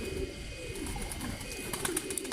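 A pigeon with a black tail, green throat and waxy beak coos nearby, a soft low rolling call repeating over a couple of seconds against faint background noise.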